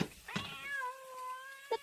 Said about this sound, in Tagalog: Natamaak ti pusa.